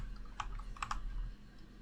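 Typing on a computer keyboard while entering an IPv4 address during server setup, a few quick, fairly faint key clicks clustered together over low background hum.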